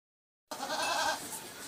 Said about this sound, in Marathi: शेळीचा आवाज येतोय बघा.